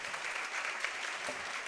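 Audience applause at an evening music school concert in a hall, a dense, steady clapping from a crowd that fills the whole moment without any voices.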